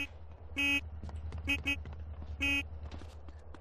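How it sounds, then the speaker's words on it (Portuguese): Car horn honking in the video game GTA San Andreas, several short electronic beeps in an uneven pattern over a low engine drone, with someone talking between them. "Você tá buzinando assim porque tá feliz"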